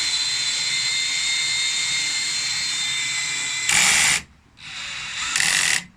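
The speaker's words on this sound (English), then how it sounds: "Drill lifts car very quickly." An electric drill drives a power jack lifting a car, giving a loud steady high-pitched whine that cuts off abruptly near the end and then restarts in short bursts, close to the microphone with no talk.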